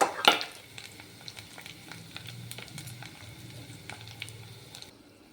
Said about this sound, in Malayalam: വെളിച്ചെണ്ണ ഒഴിച്ച് ഉള്ളി കാച്ചി അതിലേക്ക് അരിഞ്ഞു വെച്ചിരിക്കുന്ന കറിവേപ്പില ഇഞ്ചി പച്ചമുളക് ഇട്ട് വഴറ്റുക